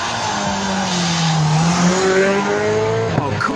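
Cars launching hard at a track day, engines revving loudly as tires squeal and skid with a rising, sweeping pitch, close and continuous with no talking.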